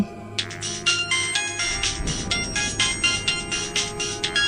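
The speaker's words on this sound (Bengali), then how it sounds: "ফোনটা বেজে উঠল" A phone ringtone sounds in a repeating pulsing pattern of bright electronic tones, steady and fairly clear over a low background hum, with no talking.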